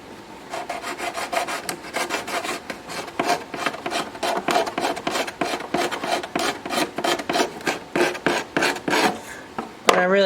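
Rhythmic scraping strokes rasp away silver paint from the wooden body of a 1953 Gibson J185 acoustic guitar, a steady series of close, loud back-and-forth scrapes with a brief clatter at the end.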